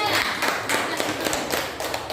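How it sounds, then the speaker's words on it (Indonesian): A class of students claps together in a classroom, a dense, steady patter of hands close by for a couple of seconds. "tepuk tangan untuk kelompok 3."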